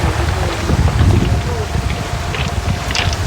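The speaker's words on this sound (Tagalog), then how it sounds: "Grabe, lakas ng tubig, ano?" Strong water rushes and churns steadily at a stream or shore after a typhoon, a dense, loud wash that holds throughout, with people talking over it.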